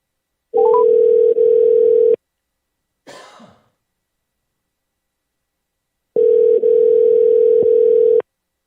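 Steady telephone dial tone while calling in to a morning show, two long bursts separated by a brief throat-clearing sound and a gap, then the tone returns loud and continuous.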